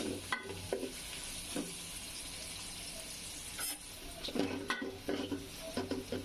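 Onions soften in spiced oil in a pot for Bengali khichuri, making a quiet sizzle broken by repeated scraping of a spoon and clinks against the metal pan.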